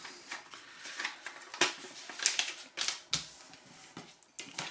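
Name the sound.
cutter cutting material into eighths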